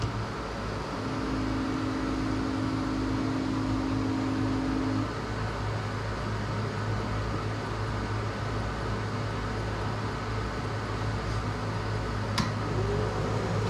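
A steady mechanical hum and whir of an xTool D1 laser engraver engraving an eggshell continuously, with a faint constant tone and fan noise, no voices.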